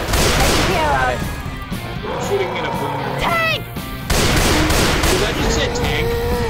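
Gunfire in Left 4 Dead 2 at a carnival level, loud bursts of shots and crashes running throughout under frantic players' voices shouting.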